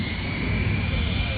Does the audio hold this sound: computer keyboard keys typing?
no